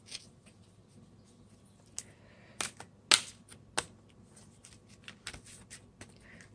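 Oversized Black Moon Oracle cards being shuffled by hand, giving soft irregular riffling and sharp snapping clicks at close range, quiet overall with no talking.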